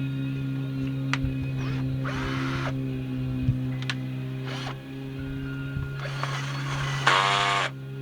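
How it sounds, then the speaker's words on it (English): Wire wheel spun by a power tool cleaning a brake caliper bracket from a 2002 Chevy Blazer, a steady motor drone with several short bursts of harsh scrubbing as the bristles hit the metal. "I'm going to clean that up with a wire wheel here."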